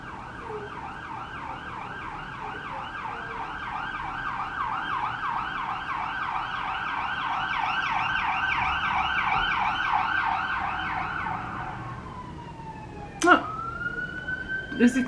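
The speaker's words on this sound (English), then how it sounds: "There's the siren" An ambulance siren wails in a rapid repeating yelp that swells louder as it passes outside and then drops away, followed by sharp knocks close by.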